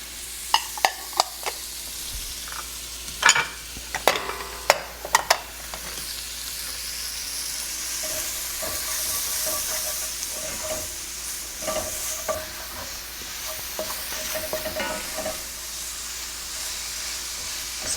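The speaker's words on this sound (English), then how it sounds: "Throw the onions in there, let them cook down a little bit." Onions and peppers sauté in butter in a skillet for a Creole-style dish, a soft continuous sizzle and hiss with sharp utensil clacks against the pan early on, then steady frying.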